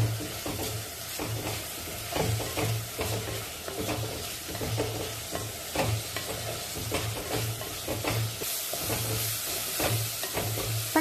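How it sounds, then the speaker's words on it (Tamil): Chopped onion and garlic sauté in a pan for an egg kuruma, a continuous close sizzle with steady hiss and repeated scraping stirs, with no talk. "பூண்டையும் சேர்த்து நல்லா வதக்கிக்கலாம்"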